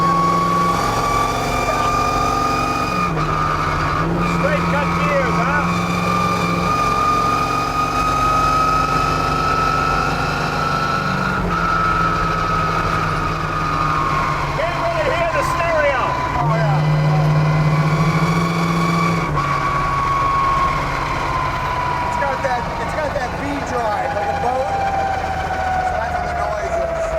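Batman Tumbler with straight-cut gears runs steadily with a loud, continuous engine drone and a prominent gear whine, with people talking over it throughout.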